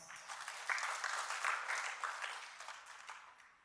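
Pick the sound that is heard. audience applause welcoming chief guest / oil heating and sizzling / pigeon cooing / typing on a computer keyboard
audience applause welcoming chief guest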